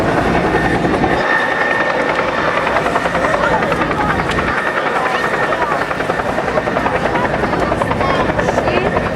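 Loud, thumping rotor noise of a taxiing Bell Huey helicopter at an air show dominates throughout, steady and close, with a heavy engine whine underneath.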